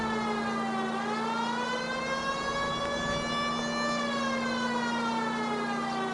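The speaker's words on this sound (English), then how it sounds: "so people move if I got my siren on." A police car siren from the video game L.A. Noire wails continuously and loudly, its pitch dipping and rising slowly over several seconds.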